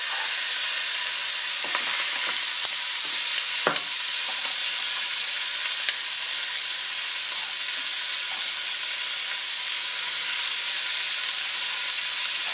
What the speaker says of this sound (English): I'm just allowing the garlic to get aromatic. And I'll add the onion.